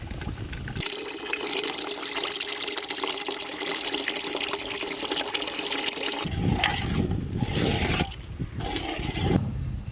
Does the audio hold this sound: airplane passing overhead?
no